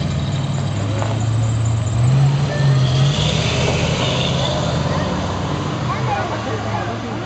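A car at a Mayfest parade of American cars stalls and falters on its start, a low engine rumble and uneven sputtering that rises briefly then settles into a steady idle, with crowd chatter and talking nearby.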